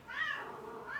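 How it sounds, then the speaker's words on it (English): A house cat gives a single drawn-out meow with a rising then falling whine, close and fairly soft, heard on its own. "It's my cat"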